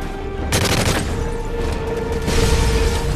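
Sustained automatic gunfire fills a firefight in the Call of Duty: Modern Warfare 3 campaign, dense rattling bursts layered with booming shots, loud and continuous throughout with a slight swell near the end.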